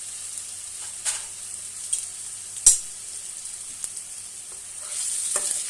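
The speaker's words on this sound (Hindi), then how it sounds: "मसला को भल कि भाजवा" Masala frying in a pan while being stirred, a steady soft sizzle with a few sharp scrapes and clinks of the spoon, one louder knock midway, no talking.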